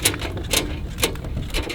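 A key turns in the lock of a Husky five-drawer heavy-duty steel cabinet, giving a few sharp metallic clicks and ratcheting snaps heard close up.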